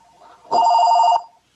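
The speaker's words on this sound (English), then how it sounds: "Whoops, you got a phone call, Tom." A single telephone ring signals an incoming call: a loud, close electronic warble of rapid pulsing tones that lasts about half a second and then stops.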